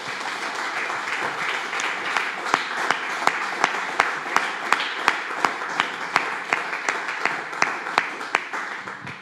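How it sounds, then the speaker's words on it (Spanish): A church congregation applauds in a steady rhythmic clap, many hands beating together on a regular pulse, loud and sustained throughout. "Denle un fuerte aplauso al Señor"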